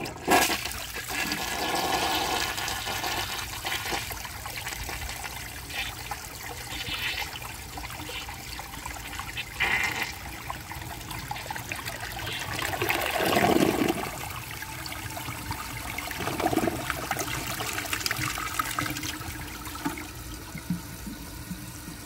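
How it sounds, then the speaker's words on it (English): A 1995 Mansfield Alto toilet flushes with its handle held down, giving a steady, fairly loud rush of water that swells into a gurgling siphon midway and trickles on to the end, with no talking. "I'm gonna do another flush"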